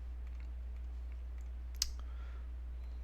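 A single sharp mouse click while working in spreadsheet software, near and brief, standing out against a steady low electrical hum with no talking.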